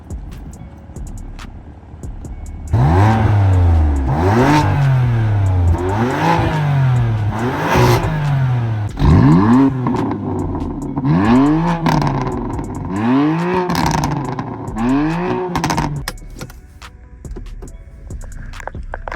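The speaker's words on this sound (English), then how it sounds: "So I'm going to give you guys quick sound clips, how it sounds before." A BMW F80 M3 with its stock Competition exhaust revs repeatedly, about eight loud sharp blips that rise and fall in quick succession, then the engine settles to a lower idle.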